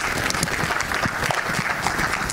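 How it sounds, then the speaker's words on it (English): An audience at a trailer launch for the film Chhapaak applauds director Meghna Gulzar with dense, steady clapping that fills the hall, loud and continuous from start to finish. "a big round of applause for her"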